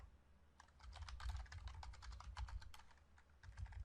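Code is typed on a computer keyboard in a steady run of soft, fast key clicks, close but quiet, with no voices.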